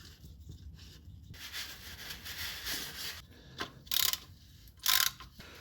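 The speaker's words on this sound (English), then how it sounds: "let's tighten the cap" The plastic oil filter cap on a Renault Clio 4 with the 0.9 TCe engine is screwed tight, giving soft quiet rubbing and ratcheting clicks that end in two brief sharper bursts.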